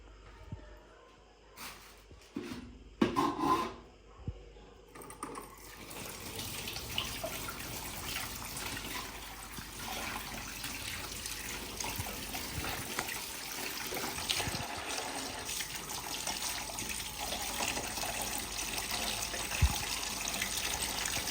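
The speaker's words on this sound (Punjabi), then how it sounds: "ਮੱਛਲੀ ਜਿਹੜੀ ਆ ਨਾ ਉਹ ਮੈਂ ਧੋ ਲਈ ਆ" Tap water runs steadily into a sink as fish is rinsed in a village kitchen, a continuous splashing wash that follows a few brief bursts of water, with no talk over it.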